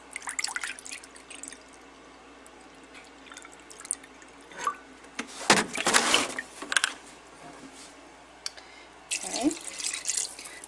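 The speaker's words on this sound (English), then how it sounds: "Now I will add 3 cups of water." Water splashes and trickles in short bursts as it is poured into a Power Cooker pot for venison stew, close by and moderately loud, with quiet pauses between pours.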